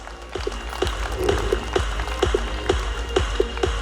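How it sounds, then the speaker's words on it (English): Audience applause at an annual get-together and cultural function, a modest crowd clapping with distinct individual claps standing out in an uneven rhythm over a low steady hum. "Please give a big round of applause."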